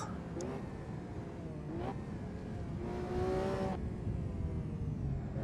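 Lamborghini Revuelto engine in the Assetto Corsa racing game, rising and falling revs with a few sharp upshifts and a harmonic whine, moderately quiet and continuous.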